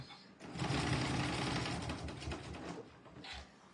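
A close sewing machine stitches a quilt pattern for a car trash can project, running in one continuous rapid burst that starts abruptly and then slows near the end.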